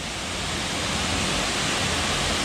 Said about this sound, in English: Dog Slaughter is one of the more popular waterfalls here in this area in the Daniel Boone National Forest.